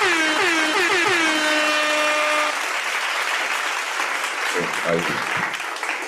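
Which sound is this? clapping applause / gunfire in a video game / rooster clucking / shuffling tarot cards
clapping applause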